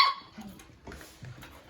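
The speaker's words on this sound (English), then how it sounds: "I mean, they're vocal little dogs." Seven-week-old puppies let out a few short, high yips and barks at play, close and moderately loud, with quiet gaps between them.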